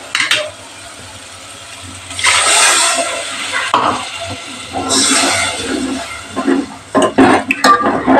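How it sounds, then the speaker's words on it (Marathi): Water is poured into spiced fish curry masala frying in hot oil with turmeric, salt and coriander powder, giving two loud rushing sizzle bursts followed by scattered clinks and stirring sounds. "पाणी टाकून"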